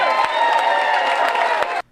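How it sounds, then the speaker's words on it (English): At the first Women's Law Enforcement March, a crowd of women claps, cheers and whoops loudly for almost two seconds, then the noise cuts off abruptly. "Give yourself a round of applause, ladies."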